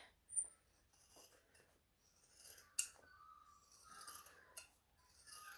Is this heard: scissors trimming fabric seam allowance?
yes